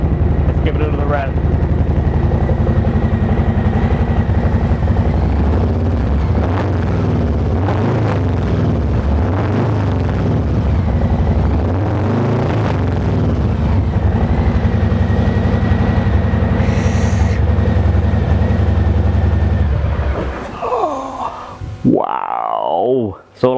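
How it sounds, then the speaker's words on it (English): A 2018 Harley-Davidson Softail Heritage Classic fitted with a Vance & Hines Eliminator 300 exhaust rumbles loud and close, its deep, raspy V-twin note swelling through repeated revs before dropping away at the end. "don't they sound fantastic? Let's give it another rev."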